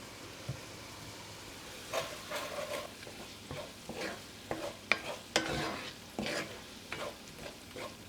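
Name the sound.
venison stroganoff being stirred in a sizzling pan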